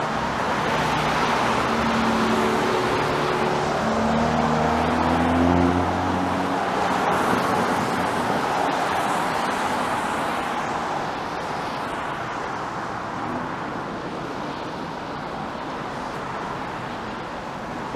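Steady, loud roar of car traffic passing on rain-soaked Yonge Street in Toronto in March, a continuous wet tire hiss with engines rising and fading nearby, no speech.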